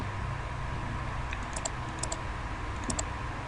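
Computer keyboard keys being pressed, a few light clicks over a steady background hum, faint and with no talk.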